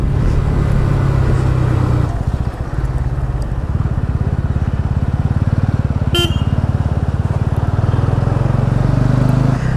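Motorcycle riding near Pokhara Lakeside, Nepal, a loud, steady engine drone with a pulsing throb, close to the microphone, with a brief horn toot partway through.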